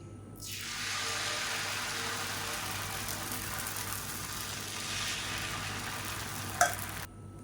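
Wheat flour dosa batter, mixed with poongar rice and flattened rice, hits a hot pan and bursts into a loud, steady sizzle that keeps going for several seconds, with one brief clink near the end.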